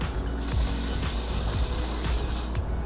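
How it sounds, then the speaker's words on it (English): Continuous close hissing spray of setting spray onto a makeup sponge, steady and loud throughout, with faint rhythmic clicks underneath. "I'm gonna spray the sponge"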